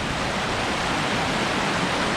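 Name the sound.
strongly flowing creek water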